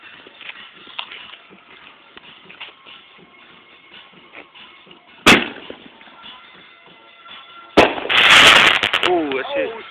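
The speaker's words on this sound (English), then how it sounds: "Artillery shell bomb." An artillery shell firework is lit outdoors among a crowd: a sharp, loud bang, then a second blast with a crackling burst, over background shuffling and chatter.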